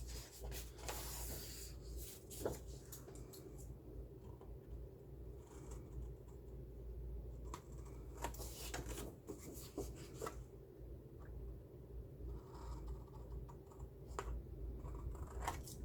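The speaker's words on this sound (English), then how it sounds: "And now I'm going to cut off the corners." Scissors trim the paper corners off a handmade travel junk journal notebook, producing faint, close snips and rustling paper handling with soft rubbing and tapping over a quiet room hum, no talking.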